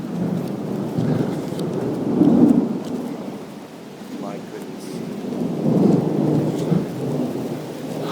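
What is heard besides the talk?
heavy rain and thunder during a thunderstorm in New Hampshire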